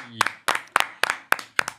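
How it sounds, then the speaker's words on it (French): Studio audience at a French talk show claps in unison, six crisp, evenly spaced beats in a quick steady rhythm, close and fairly loud. "On applaudit."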